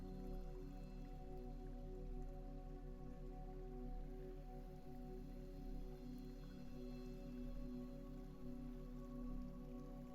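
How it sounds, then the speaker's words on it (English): Soft, steady rain patters onto the surface of a lake, a faint continuous hiss of drops lying beneath a sustained, calm musical drone, with no voices. "The dark surface of the lake reflects pieces of sky between the falling rain."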